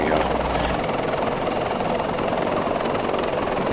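A helicopter in a military shooter video game sends out a loud, steady rotor and engine roar for the whole stretch, with radio chatter mixed in underneath.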